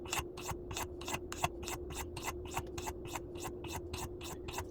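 A pocket knife blade swiped on a whetstone in a steady, even rhythm of about twenty quick rasping strokes, close and fairly quiet over a faint constant hum.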